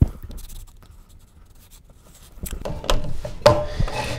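Pencil sketching on paper, soft scratchy strokes that start faint and sparse, then grow into louder, quicker bursts of drawing marks toward the end, close up and with no talking.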